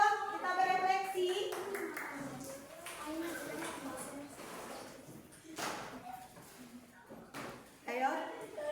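Scattered hand clapping in a classroom, a few loose bursts of claps mixed with children's and an adult's talking throughout.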